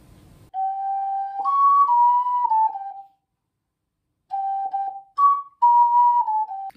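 A breathy, flute-like melody played on a 12-hole ocarina: a phrase of sustained notes stepping down, a pause, then the phrase repeated, close and clear.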